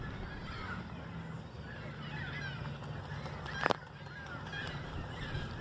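Faint, scattered bird calls and honks rise from a busy nesting colony of mixed species at Tommy Thompson Park, over a constant wash of background noise, with one brief sharp knock.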